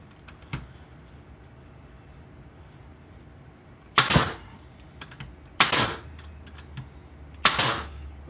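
Brad nails 1 1/4 inch long driven into a wooden owl nesting box, three sharp, loud pneumatic shots spaced about two seconds apart, each with a short rattling tail, after a few faint taps.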